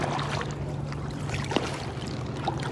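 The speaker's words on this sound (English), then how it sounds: "I'm gonna have to start paddling now" Kayak paddling near a dock: soft, continuous water swishes and faint drips under a steady low hum, quiet and close, with a couple of small splashes.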